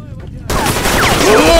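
After a quiet start, rapid gunfire erupts loudly in the video game S.T.A.L.K.E.R. Shadow of Chernobyl and keeps rattling close by, while voices shout underneath.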